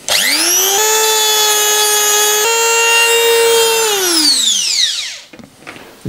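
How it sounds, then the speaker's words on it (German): A rotary grinder cuts a slot into the middle of a metal tab on an electronic voltage regulator, giving a loud, steady high-pitched whine that holds for several seconds before winding down and fading out. "hier in die Mitte dieser Lasche schleife ich nun gleich einen Schlitz rein"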